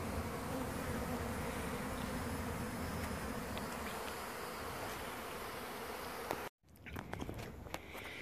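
Honeybees swarm and buzz steadily at a hive being removed from a trailer in Auburndale, Florida, a dense close drone that fills the air, briefly cutting out near the end before resuming.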